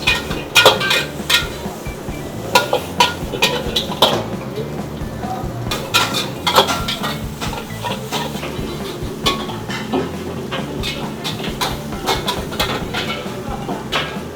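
A metal spatula stirs noodles in a wok at a Betawi street nasi goreng stall, clanking and scraping against the pan in quick irregular bursts, close and loud over a busy kitchen background.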